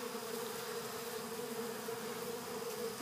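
Bees swarm a hibiscus nectar feeding station, their wings making a steady, even drone that hums close by with no break.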